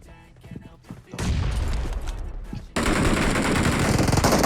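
Automatic rifle fire rattles in rapid bursts in an online shooter game, loud and close, with a sustained crackling volley in the second half.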